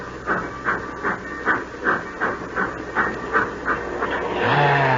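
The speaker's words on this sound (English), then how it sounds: "The old boiler up front's got the steam up." An old steam train's boiler chuffs in a steady rhythm of hissing steam bursts as the train pulls away, ending in a longer, louder hiss.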